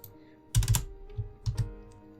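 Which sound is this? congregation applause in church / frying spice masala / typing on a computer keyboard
typing on a computer keyboard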